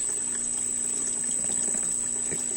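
Cold water runs into a goldfish tank holding oranda goldfish, a steady close trickle and gurgle over a constant pump hum, with no one speaking.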